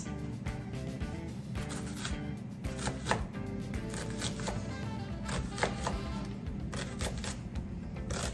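Rapid repeated knife strikes on a cutting board while thinly slicing ingredients for gluten-free mini meatloaves, a steady close tapping rhythm over a constant background hum.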